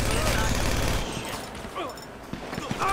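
Dense burst of rapid automatic gunfire from shooting enemies in the video game GTA V, loud and continuous for about a second, then scattered shots and impacts with a few more bursts later.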